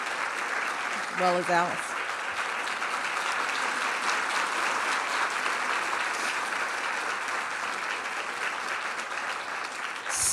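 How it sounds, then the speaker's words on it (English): Sustained audience applause honoring World War II servicewomen, a dense, even wash of clapping lasting throughout, with a brief spoken remark near the start. "Let's please give them a round of applause"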